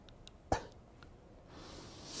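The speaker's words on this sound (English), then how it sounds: "here's a regular cough" A man with limited breathing ability gives a single weak, unassisted cough, one short sharp burst close to the microphone, followed by quiet breathy air noise.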